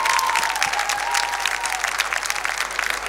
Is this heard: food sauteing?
no